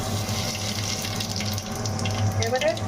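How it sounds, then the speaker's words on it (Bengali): Water runs steadily into a pan of mashed tamarind for a Bengali hilsa sour curry, a continuous close splashing gush with a low hum beneath it. "তেঁতুলটা চটকে আমি জলটা দিয়ে দেবো"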